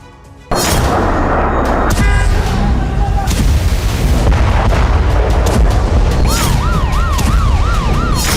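Sudden loud blasts and rumbling booms from explosions in Beirut, with wailing sirens rising and falling nearby; a dense, chaotic din throughout.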